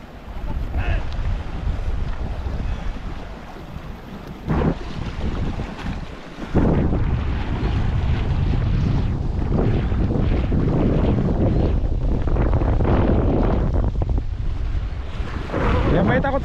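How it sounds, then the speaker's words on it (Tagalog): Strong river current rushing during a water crossing, a continuous loud roar of water with heavy wind buffeting the microphone throughout, voices faintly mixed in. "Ang lakas pa naman ang agos."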